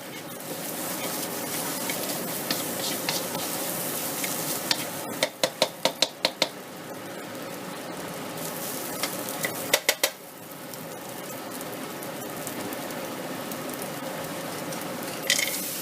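Fried rice ingredients stir-fried in a worn wok: a steady mid-level sizzle with scraping of a utensil against the pan, plus a cluster of sharp metallic clacks midway and another pair a few seconds later.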